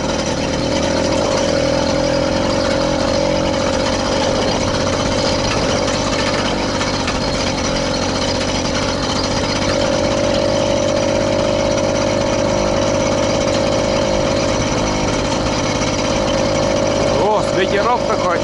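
A homemade all-terrain bicycle's small engine running in during its first break-in ride, a steady droning mid-pitched hum that holds close and even throughout, with a brief rattling disturbance near the end.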